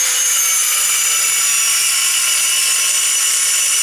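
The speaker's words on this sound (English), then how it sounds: "So I have to just sort of grind this down a little bit" A power tool grinds down a metal bracket on a classic car, giving a loud, steady, high-pitched abrasive hiss that runs without pause and without voices.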